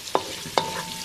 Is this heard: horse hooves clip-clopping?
no